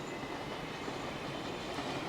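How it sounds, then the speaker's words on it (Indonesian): A Rapid KL LRT train runs past the station with a steady, continuous rumble and rushing roar, moderately close and even in level throughout. "Sebelah sana itu Rapid KL atau LRT. Tuh yang jalan itu."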